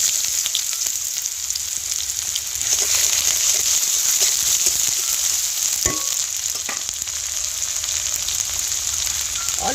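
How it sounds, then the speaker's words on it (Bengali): Garlic paste and chopped onion frying in hot oil, giving a loud, steady sizzle with occasional light stirring clicks, close up and with no talk. "এবার তেলটা গরম হয়ে গিয়েছে, এবার অল্প রসুন বাটা দিয়ে দেব, অল্প পেঁয়াজ কুচি দিয়ে দেব"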